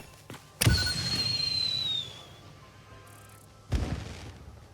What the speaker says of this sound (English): So here's the fancy fireworks.